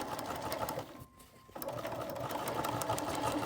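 A home sewing machine stitches a seam a quarter inch from the edge on a Simplicity S3189 garment: a steady, close mechanical whir with a brief pause near the middle before it runs on.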